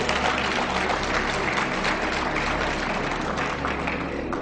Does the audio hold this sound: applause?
yes